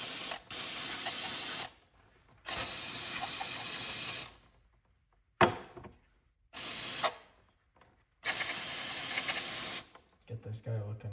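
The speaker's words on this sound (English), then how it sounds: "So grab your handy dandy carburetor cleaner. Clean him off good." Bursts of carburetor cleaner sprayed onto a snowblower carburetor, several loud hissing blasts of one to two seconds separated by short pauses, close up with no talking.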